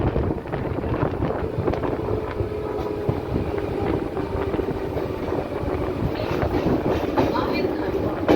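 A passenger train pulls into Bahirkhanda station on the Tarakeswar line, giving a steady rumble and rattle of wagons with faint clickety-clack and wind buffeting close to the microphone.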